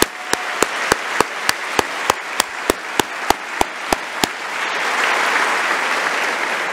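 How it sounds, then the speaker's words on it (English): At a foundation's annual meeting, sharp evenly spaced claps ring out close by, then give way to a broad, steady wash of audience applause that builds and continues to the end. "Can we just give another round of applause for Damian?"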